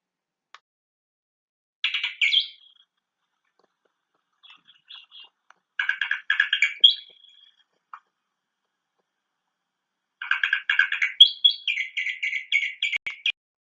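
A small bird native to central Chile sings in three separate bursts of rapid, buzzy chirps and trills, clear and close, with silent pauses between each phrase.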